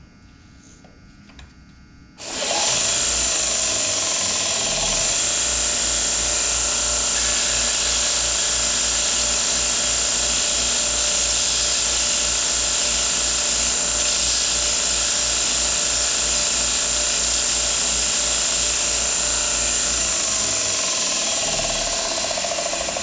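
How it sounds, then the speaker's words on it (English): A belt and disc sander grinds burrs off the end of 1-inch square metal tube in a metal shop, a steady loud whirring roar that starts abruptly after a quiet moment and holds constant with slight grinding variations throughout. "this sander is pretty much the right size for just cleaning off those burrs and all of that extra garbage on the end"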